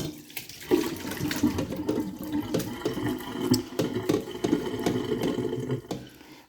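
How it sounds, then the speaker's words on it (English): Cold tap water runs steadily over shredded potatoes and onions in a sink colander, a continuous splashing rush with small clatters, fairly close and with no talk. "And then we're going to run cold water over it to get more starch off."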